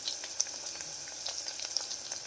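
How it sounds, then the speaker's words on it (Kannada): Ingredients for dal khichdi fry in a pan with a continuous bright sizzle and scattered crackling pops, close and moderately loud, with no voice over it. "ನೋಡಿ ಇವಾಗ 1 ನಿಮಿಷ ಫ್ರೈ ಆಗಿದೆ"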